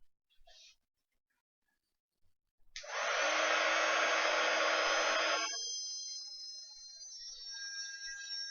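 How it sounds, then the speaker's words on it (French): A hair dryer blows on wet lace, switching on abruptly and running loud and steady for a few seconds before dropping to a lower, quieter setting and continuing to whir. "Donc je vais sécher ma dentelle et je vous retrouve."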